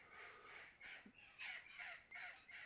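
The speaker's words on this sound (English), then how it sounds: "Those are wild parrots." Wild parrots in a neighborhood give a run of harsh, raspy squawks in quick repeated bursts, faint and somewhat distant.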